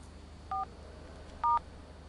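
Two short telephone keypad dialing tones sound about a second apart, clean and quiet against a faint background hiss, with no one talking.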